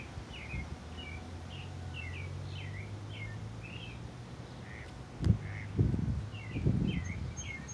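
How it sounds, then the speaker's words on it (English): Small birds in a park give repeated bright chirps and short whistled calls at moderate distance, over a low steady hum with a few thumping bumps near the end, and no talking. "Just listen to the birds."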